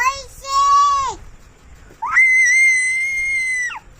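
Two long, shrill whistle blasts in a home, the first shorter and the second held steadily for well over a second, loud and close with quiet in between.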